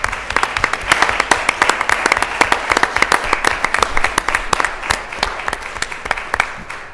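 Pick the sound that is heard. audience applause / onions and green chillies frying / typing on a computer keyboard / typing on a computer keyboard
audience applause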